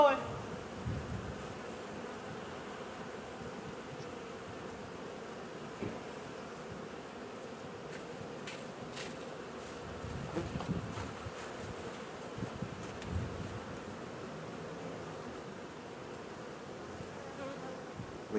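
Honeybees buzz in a soft, continuous drone around an open, crowded hive in late February, fairly faint and steady with a little wind noise and a few closer passes.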